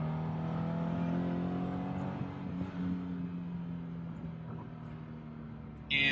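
Car fitted with a Phantom 2.0 electric supercharger on partial boost, accelerating: a steady engine drone with rising harmonic bands that holds moderately loud, then eases off and whirs more faintly before a sudden loud burst at the very end.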